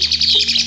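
A jalak suren, or pied starling, gives a quick burst of bright chirps, close and clear, with no voices.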